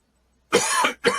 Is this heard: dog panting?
no